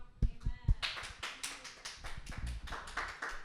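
A church congregation claps together in a burst of hand claps, a few sharp single claps first and then a denser round of applause that holds steady, fairly close and clear.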